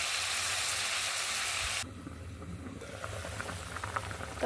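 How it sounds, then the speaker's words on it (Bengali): A pot of vegetable curry with spices and ginger bubbles on the stove, a dense steady simmering hiss that drops abruptly partway through to a quieter bubbling with light pops and clinks, close with no voices. "তরকারিটা ফুটে উঠেছে"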